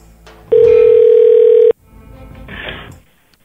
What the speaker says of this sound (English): we're going to call Cindy Norton right now first